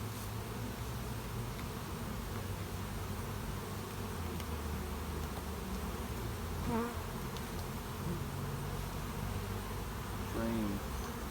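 Honey bees swarm over a brood frame lifted from a hive, a dense steady buzzing that stays faint and even throughout, with a few single bees droning slightly louder as they pass close.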